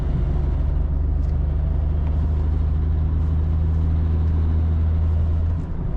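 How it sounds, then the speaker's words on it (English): Steady low drivetrain drone and rumble from a single mass flywheel in a BMW N54 car with a DCT swap, cruising in 7th gear at low speed, constant and close without talk. "You can hear that single mass flywheel."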